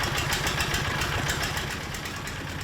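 Engine of a brick press machine turning clay mixed with husk into bricks, running steadily at close range with a rapid, regular knocking rhythm and no voices.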